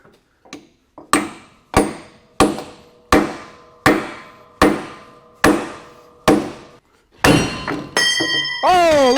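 A hammer knocks against a stuck metal pin on a John Deere sprayer, about nine evenly spaced ringing metallic taps at a steady rhythm, followed by clanking and a voice speaking.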